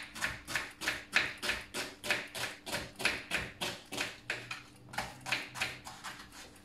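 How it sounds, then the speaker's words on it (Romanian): A knife chops onion on a cutting board in quick, steady strokes, about three per second, with a brief pause before the chopping resumes; sharp, close knocks with no talk. "Deci o să facem pe pat de ceapă și tăiem ceapa așa."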